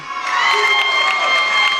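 A wrestling arena crowd cheers and shouts loudly and continuously, a dense wall of high-pitched yelling and whoops from many spectators.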